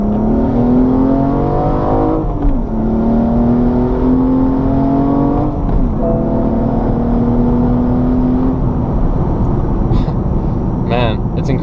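A BMW E85 M235i engine revs hard in second gear and climbs in pitch over several long pulls, loud and close, with a brief dip between each surge.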